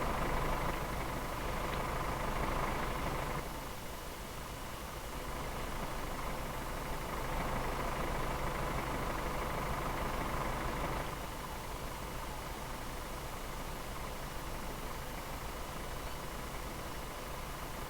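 A train engine runs in a railroad video game with a continuous, hissy, droning hum. The steady tone rises and falls slightly in intensity and stays at a moderate level throughout, with no speech.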